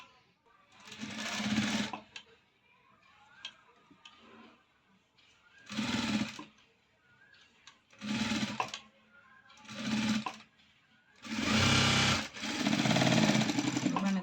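A sewing machine stitches a blouse, running in several separate bursts of steady whirring separated by short pauses, with the last run longer and louder.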